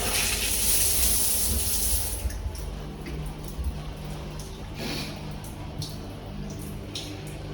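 Water runs from a hostel shower in Ushuaia, Argentina: a steady, close hiss of spray that is brightest and heaviest in the first two seconds, then continues as a softer, even rush.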